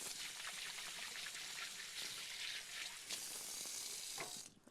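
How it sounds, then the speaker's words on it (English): Hands washed with soap under a running kitchen tap, a steady close hiss of flowing water with slight splashing changes, cut off sharply just before the end. "Give my hands a wash."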